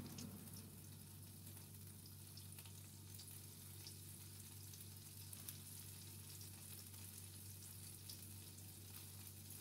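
Sucuk sausage frying in a pan for cheesy sucuk and eggs, giving a steady, close sizzle and crackle that holds evenly throughout with no talk over it.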